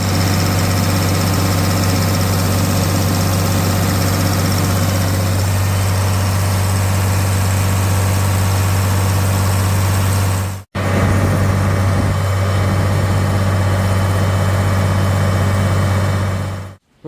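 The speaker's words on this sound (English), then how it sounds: "we're here at the dyno, just getting ready to dyno this thing, see if we can blow it up" A rebuilt John Deere 4020 tractor engine runs on a dyno with a loud, steady heavy drone and strong low hum, dropping out briefly for a moment before resuming.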